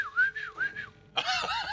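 A person whistling a short rising-and-falling tune in three quick phrases, then a louder, brighter burst of whistling right after, close and clear.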